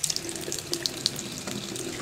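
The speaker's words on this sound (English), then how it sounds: "Some dirty brown water just came out of that fucking hole." Dirty brown water gushes out of a hole with a splashing, running flow punctuated by bubbly spurts, fairly close and fairly quiet, with no voices.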